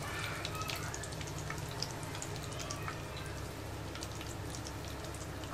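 Cumin, mustard seeds, red chili and curry leaves fry in a tablespoon of oil over a very low flame, giving a steady, close crackling sizzle with scattered small pops throughout.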